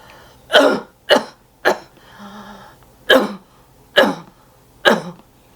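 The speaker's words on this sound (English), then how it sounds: "you just take a deep breath and you cough like this." Six forceful deliberate coughs in a loose rhythm, close and loud, with a brief breathy inhale between the third and fourth.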